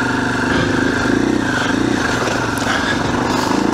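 A 2021 KTM 500 EXC-F dirt bike's single-cylinder four-stroke engine pulses close and loud, rising and falling in repeated throttle blips on a woods ride.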